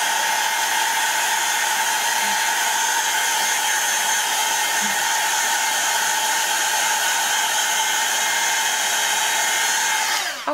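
A hair dryer blows steadily on wet paint on a small art piece, making a loud, continuous whirring hiss that runs for about ten seconds and cuts off at the end.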